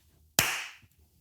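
A single sharp hand clap, loud and close, with a bright snap that decays over about half a second in an otherwise quiet room.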